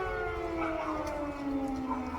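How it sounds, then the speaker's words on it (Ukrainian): An air raid siren wails steadily and slowly falls in pitch, with occasional faint dog sounds underneath. The siren is distant and fairly quiet, and no one talks. "як собаки виють, лають. Хто кого перекричить тривога собак чи собаки тривога?"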